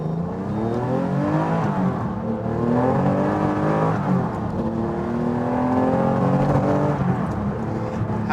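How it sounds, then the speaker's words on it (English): A TVR Sagaris sports car accelerates hard through its gears, the engine note rising and dropping with each shift in a loud, continuous run with no talking. "Let's do one final run through the gears before I give you my conclusion."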